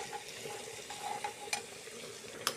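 Egg fried rice being stirred in a pan with ginger-garlic paste, stock cube and eggs, a soft steady sizzle broken by a few light scrapes and taps of the spoon, close and quiet with no voices.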